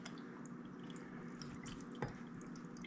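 Honey-sweetened black raspberry fruit vinegar is poured into a glass of ice, giving a soft, quiet trickle with one brief liquid splash partway through.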